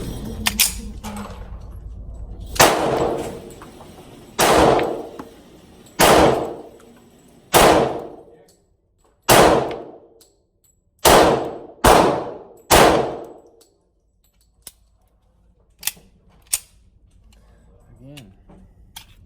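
A Rock Island Armory M1911A1-FS pistol fires a magazine of rounds, about nine sharp, loud shots at irregular one- to two-second intervals, each leaving a short ringing decay, followed by quieter clicks and handling noises.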